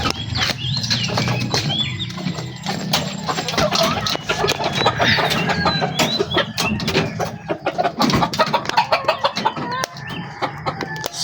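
Native labuyo chickens cluck and chatter busily while being fed, a dense flock of overlapping close calls with scattered sharper squawks and some pecking sounds, and a voice speaks faintly at times underneath.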